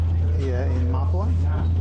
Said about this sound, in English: You can hear the engine chugging away.